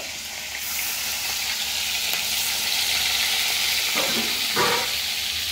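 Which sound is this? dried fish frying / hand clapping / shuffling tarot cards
dried fish frying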